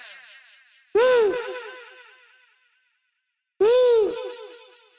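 A short tonal note fed through a fast delay effect smears into a reverb-like tail of rapidly repeating echoes that fade out, heard twice with a silent gap between the two.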